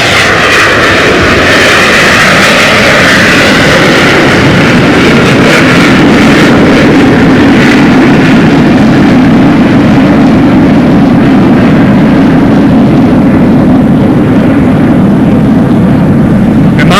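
Loud, continuous jet roar from airshow solo jets climbing vertically and rolling into a split S over Pensacola Beach, a broad sustained rumble that holds steady throughout before easing slightly toward the end, with no voices.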